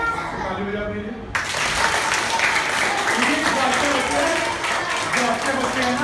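Schoolchildren in a Class 4 classroom at Kendriya Vidyalaya Azamgarh break into a burst of dense, steady clapping that starts abruptly after a brief moment of talk and continues loudly to the end.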